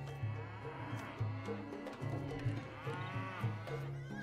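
Cow lowing in Age of Empires as the Malay civilization, several drawn-out moos with nearby bleating livestock layered in a busy game soundscape.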